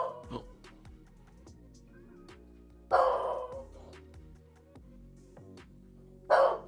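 A dog barks in three sharp, loud bursts spaced a few seconds apart, heard over a steady background of tonal music or noise.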